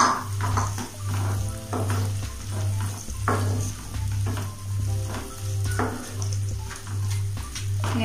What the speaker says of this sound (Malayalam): ഇങ്ങനെ നമ്മുടെ വെളിച്ചെണ്ണയിൽ ഇങ്ങനെ കിടന്നു കഴിഞ്ഞാൽ പെട്ടെന്ന് ഉരുളക്കിഴങ്ങ് നമുക്ക് വെന്ത് കിട്ടും